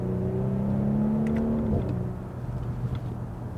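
A B9 Audi SQ5 with its exhaust resonator deleted accelerates onto a highway, its engine droning and rising in pitch before a gear change drops the note, followed by steady road and wind rumble.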